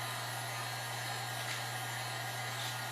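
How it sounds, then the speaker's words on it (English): A heat gun blows hot air to blister paint on a birdhouse stand, making a steady, even, close whooshing roar that runs unbroken throughout. "These heat guns are meant to actually take paint off."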